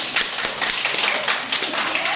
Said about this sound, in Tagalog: Bigyan natin ng palakpak si Crispy.